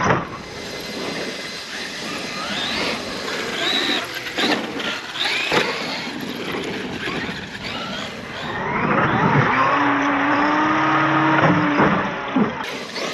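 An RC car, either an Arrma Outcast or a Traxxas Xmaxx, driving on a dirt BMX track: electric motor whine rises and falls with throttle bursts, tire hiss and bumps, then a sustained high-revving whir near the end.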